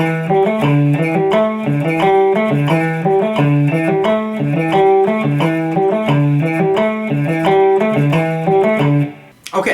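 Electric guitar with effects, distortion and chorus, cycles four pitches over a three-note rhythmic pattern in a steady repeating figure, loud and alone until it stops abruptly near the end.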